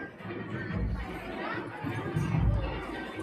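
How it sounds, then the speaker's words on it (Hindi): Dense crowd of pilgrims packed at Baba Dham temple on Mahashivratri, a steady murmur of many overlapping voices close by, swelling slightly, with no single voice standing out. "देख सका संगवारी हो बहुत भीड़ है।"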